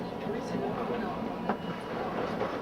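A tram rolls through Hiroshima, filling the space with a steady low rumble and an interior hum, plus a brief knock partway through.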